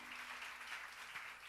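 Faint applause from a church congregation, a dense, steady wash of clapping heard from a distance at low volume.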